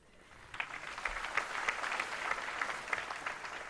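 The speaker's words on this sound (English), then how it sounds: "I'm sure merits special applause" Audience applause at a live Indian Navy symphonic orchestra concert, a steady faint patter of many hands clapping, distant and even, with no talk over it.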